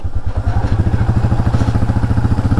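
Motorcycle without a number plate riding in the Kalvarayan Hills, a loud, close, rapid engine putter throbbing steadily, with no talk.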